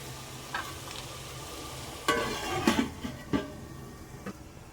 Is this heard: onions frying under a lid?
yes